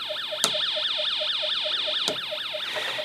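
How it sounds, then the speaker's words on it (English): A Snap Circuits alarm IC drives a small speaker with a rapid, repeating electronic siren. It sweeps steadily up and down in a fast wailing cycle, loud and close, with two sharp clicks partway through and no talk. "listen to the output of the speaker there with the siren as I put this iron core rod into the electromagnet"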